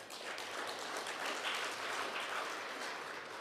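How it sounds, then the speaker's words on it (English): An audience at a national skills competition conference applauds steadily, a dense, even wash of many hands clapping at moderate distance for a few seconds. "Please join me in giving them a well-deserved round of applause"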